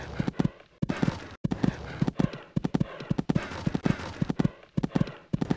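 Horse hooves cantering in the Equestriad 2001 video game on an eventing cross-country course, rhythmic three-beat clip-clop repeating steadily and close, with a soft breath-like texture between strides.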